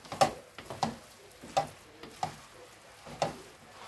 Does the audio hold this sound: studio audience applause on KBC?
no